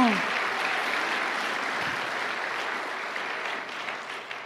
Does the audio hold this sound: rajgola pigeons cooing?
no